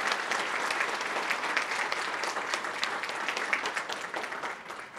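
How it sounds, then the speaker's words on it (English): An audience claps steadily throughout for honorees at an annual ATHENA Leadership Awards event, a dense, even round of applause that eases slightly at the end. "So a round of applause for our ambassadors."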